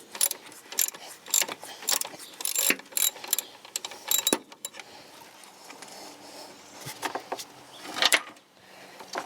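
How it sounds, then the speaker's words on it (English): A ratchet clicks in quick bursts, then slower strokes, while loosening a stuck 15 mm alternator bolt on a 1992 Jeep YJ 4.0L, close and sharp with short pauses between the bursts. "I'm just pushing from the back side of the bolt there and trying to ratchet it out a little bit by bit"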